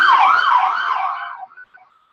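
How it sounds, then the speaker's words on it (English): A loud wailing siren sweeps up and down, then fades and cuts off into silence, with a few faint trailing tones. "sorry about the siren."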